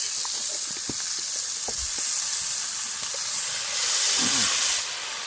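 Steady loud sizzling and hissing of chicken noodles with meat and peas frying over an open fire pit, with occasional pops and crackles, swelling briefly near the end.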